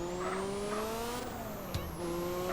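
Pickup truck driving in the game GTA San Andreas, a steady engine drone with rising revs, a brief tire squeal and a short bump, loud and continuous, no talking.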